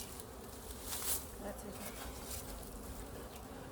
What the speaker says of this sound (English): None of the bees from my hives are particularly happy today because it's actually windier than it was yesterday.